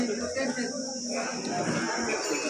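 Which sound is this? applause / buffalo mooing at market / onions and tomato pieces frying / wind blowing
buffalo mooing at market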